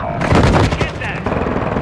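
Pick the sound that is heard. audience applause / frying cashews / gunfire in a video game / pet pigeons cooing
gunfire in a video game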